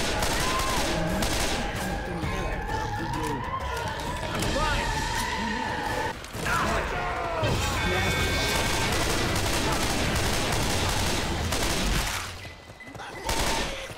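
Continuous rapid automatic gunfire in Left 4 Dead 2, a dense fusillade running for most of the stretch with brief breaks, loud and close, while players talk over it.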